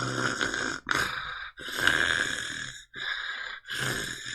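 A person imitates snoring with loud, close, raspy rattling breaths, four or five drawn-out snore sounds separated by brief gaps, throaty and exaggerated, with no other sound behind them.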